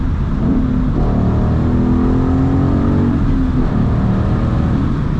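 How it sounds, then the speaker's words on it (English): Manual Ford Mustang GT pulling hard through the gears, a loud close V8 drone rising in pitch with a gear change mid-way, steady from inside the cabin. "it puts me in my seat through every gear"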